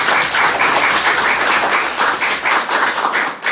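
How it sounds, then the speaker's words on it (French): An awards ceremony audience claps together steadily for several seconds, a dense, even patter of many hands at the Mada All Star Awards 2025, fading slightly at the end. "je propose qu'on s'applaudisse tous"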